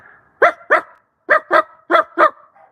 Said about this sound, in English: You know what happens when dogs start barking?